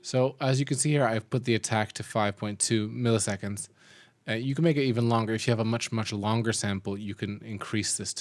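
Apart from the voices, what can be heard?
No everyday noises stand out.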